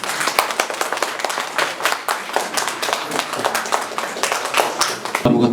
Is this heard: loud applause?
yes